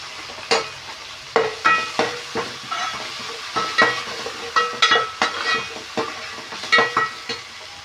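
Mint and coriander fry in oil for mint rice while a spoon scrapes and stirs the pan in a regular rhythm, each stroke a distinct clatter over a soft background sizzle.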